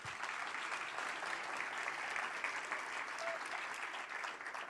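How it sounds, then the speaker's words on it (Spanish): A large audience applauds steadily at an organized event honoring the ADRA organization, a dense, even wash of many hands clapping that holds at a constant level for the whole stretch with no break. "un aplauso."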